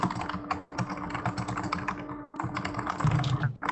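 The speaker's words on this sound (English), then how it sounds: "So much typing." Fast, steady typing on a computer keyboard, close and continuous, with dense key clatter broken by two short pauses.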